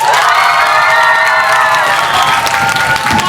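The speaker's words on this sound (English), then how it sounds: "applaud if you want the points to go to the blue team" A comedy-match audience erupts in loud cheering, whooping and clapping for the blue team, a dense roar of many voices, some high and shrill, that holds steady throughout.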